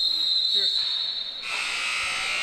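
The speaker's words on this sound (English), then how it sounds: "as the buzzer sounds for the first period over" A buzzer ends the first period of a junior lacrosse game in an arena, a long electronic tone heard alongside crowd noise while a commentator keeps talking.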